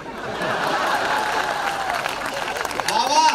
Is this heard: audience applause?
yes